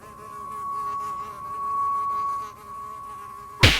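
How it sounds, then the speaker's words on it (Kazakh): A fly buzzes in a cartoon horror scene, a steady close whine droning for several seconds before a sudden loud burst at the end. "Шыбын ызыңдап мазаны алған соң"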